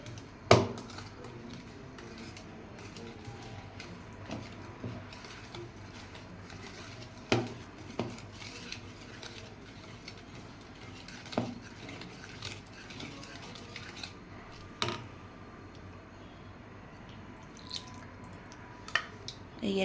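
Chocolate cupcake batter is stirred in a bowl, giving sporadic soft scrapes and sharp clinks of the utensil against the bowl over a low, steady background.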